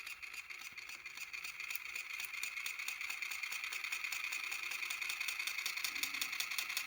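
3D printed Newman motor spinning on a bench, a steady high-pitched mechanical whine with a fast, fine rattling pulse, close and continuous, rising slightly in level as it runs.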